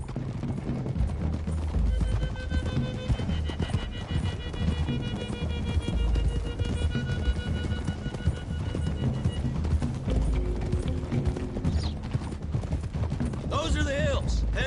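Horses galloping in the video game Red Dead Redemption, with rhythmic hoofbeats under a busy mix of music, gunfire bursts and voices talking.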